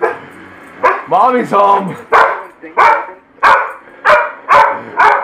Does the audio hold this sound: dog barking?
yes